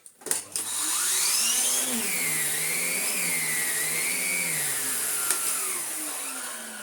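A restored Electrolux Excellio Power Max Super Silence CleanStream Z5228 vacuum cleaner starts up with a few knocks, then runs loud and close with a steady motor whine that shifts pitch as it moves.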